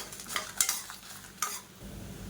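Moong dal and dried red chillies roasting in a pan, with a spoon stirring through them: a few short scraping strokes over a faint, steady dry sizzle.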